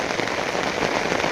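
Dense, heavy rainfall hisses without pause, loud and close, a brief stretch of steady pouring with nothing else heard.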